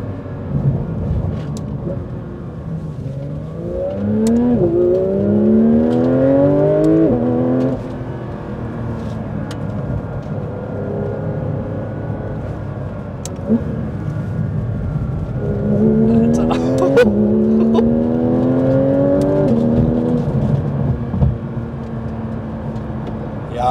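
A Porsche 992 GT3 RS accelerates through a curve, its engine loud from inside the cabin with rising revs, shifts and a brief lift-off, then another strong climbing pull.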